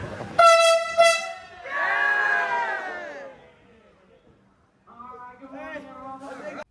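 Melbourne's X'trapolis 2.0 electric train sounds its horn in two loud close blasts, followed by a wavering chime-like tone, with people talking nearby.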